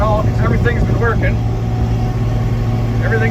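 Versatile tractor running in a field while replanting corn, a steady low engine drone with a continuous hum throughout, close and loud from inside the cab, with someone talking over it.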